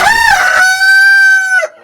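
Kappiri rooster crowing once, loud and close, a rising opening followed by a long sustained tonal call that cuts off abruptly.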